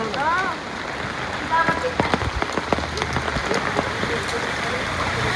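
Heavy downpour in Talegaon flooding a housing society and turning the road into a river: a dense, continuous roar of rain hitting surfaces with sharp splash spikes, while voices talk over it.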